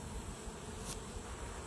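Honeybees in a hive undergoing an oxalic acid vapor mite treatment give off a steady, dense, continuous buzzing hum, fairly close and unbroken, with no talking.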